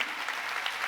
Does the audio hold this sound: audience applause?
yes